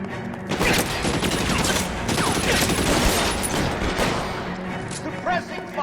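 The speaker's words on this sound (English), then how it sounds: "Suppressing fire!" Gunfire in L.A. Noire: a loud, sustained exchange of shots and clattering bursts, close and dense, with voices shouting in the middle of it.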